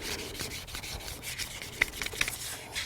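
Sandpaper rubbing steadily back and forth over greasy metal wheel spokes during a home wheel restoration, a close, continuous scratchy rasp with a few sharper scrapes partway through and no talking.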